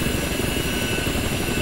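Ka-50 helicopter engines idling on the ground in the DCS combat flight simulator, a steady, even turbine whine and rotor rumble that holds constant throughout without change in pitch or loudness.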